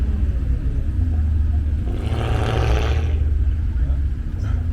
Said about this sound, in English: That is a nasty sounding V8.